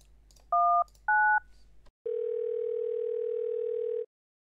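Telephone keypad in Thimbleweed Park: two short paired DTMF tones, each key press a steady dual beep, then a pause and a long continuous ringback-style tone lasting about two seconds, clean and close.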